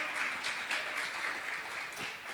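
Church congregation at a Tuesday service applauding in praise, a dense patter of many hands clapping at moderate volume, steady and unbroken for a couple of seconds with no voices over it.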